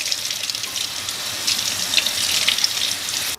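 A nylon carpet sample is rinsed under a running tap, a close, steady hiss of splashing water lasting a few seconds and then cutting off.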